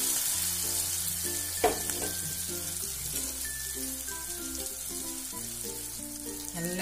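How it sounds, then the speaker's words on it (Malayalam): Chunks of yam (chena) fry in hot coconut oil with a steady, close sizzle throughout, broken by a brief stir around the middle; a word is briefly spoken. "അപ്പം എണ്ണ വെളിച്ചെണ്ണ ഒഴിച്ചിട്ടുണ്ട്. എണ്ണ നന്നായിട്ട് ചൂടായിട്ടുണ്ട്. ഞാന് നമ്മുടെ ചേനയുടെ ഒരു ചെറിയ ഭാഗം ഇതിലേക്ക് ചേർക്കുകയാണ്."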